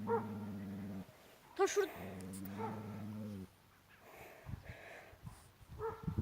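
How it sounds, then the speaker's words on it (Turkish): Stray dogs bark and yip outdoors in short bursts, with a loud close volley at the start, then quieter scattered noises and someone speaking briefly. "Oha, şurada köpek var."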